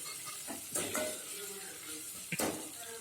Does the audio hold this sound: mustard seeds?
yes